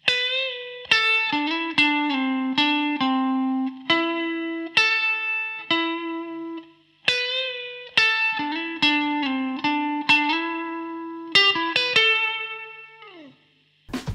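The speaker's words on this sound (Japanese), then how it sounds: "もう一つのリバーブペダルをオンにします。 設定は残響の深いプレートになります。" Electric guitar played through a plate reverb pedal set deep, plucked notes and chords ringing out with long, shimmering tails that overlap, a steady run of phrases with brief pauses and no voice.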